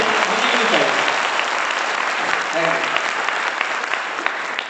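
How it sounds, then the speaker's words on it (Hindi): Loud, sustained applause from a large audience at an RCM business meeting in Sujangarh, a dense even roar of clapping from start to finish with a few voices briefly audible. "एक बार जोरदार ताली बजा के बता दें।"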